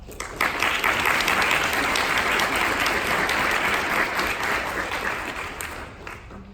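An audience applauds to welcome a speaker at an evening St Edward's event, a dense, steady wash of clapping that swells quickly, stays even and loud, then tapers off near the end.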